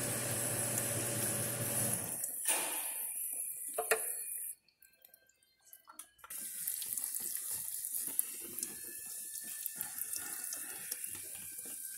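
Water runs from a tap in a steady rush while a car engine part, from a Peugeot 308 THP being serviced, is washed; the flow cuts out briefly, then resumes with splashing and light clatter, no talk.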